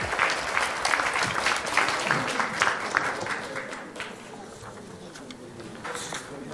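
A large audience at a political party convention breaks into sustained applause for a presidential nominee announcement, dense clapping that swells loud early then gradually thins and softens.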